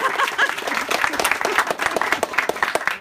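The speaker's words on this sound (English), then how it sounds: "If we could have a round of applause for Tony the Oink Master." Guests at a baby's first birthday party applaud, dense rapid clapping from a small nearby crowd, lively and sustained across the whole stretch with a bit of chatter mixed in.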